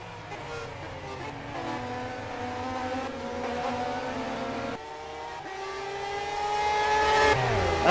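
Race cars in Simraceway at Silverstone, heading toward Vale and Club, engines droning and rising in pitch as they accelerate, several cars overlapping, growing louder toward the end with faint talk underneath.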